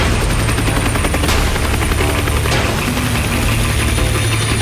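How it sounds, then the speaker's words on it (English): A helicopter flies overhead, its loud, steady rotor thump riding on a broad engine roar that fills the whole clip, with no talking. "I can hear a chopper."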